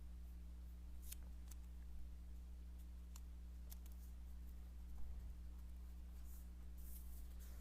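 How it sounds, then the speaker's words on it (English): Scissors cut along drawn lines in paper for a hexagon tessellation art project, giving a few faint, scattered snips and light clicks over a steady low background hum. "And then you can go in and cut along the lines"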